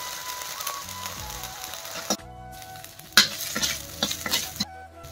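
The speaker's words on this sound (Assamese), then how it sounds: "তেলতে পিঁয়াজ দি দিছোঁ," Onions and bay leaf frying in oil in a pan, a close bubbling sizzle broken by sharp spatula scrapes and stirring clatters.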